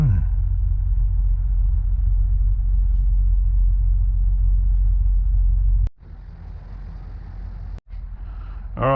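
A nitro-powered RC truck on paddle tires in rain and mud runs with a loud, steady, low engine drone that cuts out abruptly twice and then picks back up.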